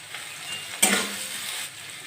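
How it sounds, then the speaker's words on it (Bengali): Vegetables and capsicum sizzle in a pan for veg pulao over a lowered flame, a steady close frying hiss with a brief louder burst as they are stirred. "ফ্লেম কমিয়ে আমি এগুলো হালকা করে একটু নেড়ে চেড়ে ভেজে নেব"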